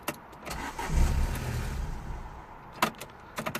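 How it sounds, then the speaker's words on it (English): A 2007 Ford Ka with a 1.3 petrol engine, left parked for two years, cranks repeatedly without firing. The starter turns over in a steady churning rhythm, with a few sharp clicks and knocks nearby. No one speaks. "the car just doesn't start."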